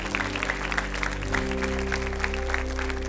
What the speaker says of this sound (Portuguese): Será que você pode dar uma salva de palmas a Deus?